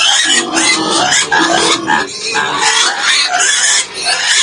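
Pigs grunt and squeal loudly and continuously, several animals close by, overlapping snorts in an uneven rhythm.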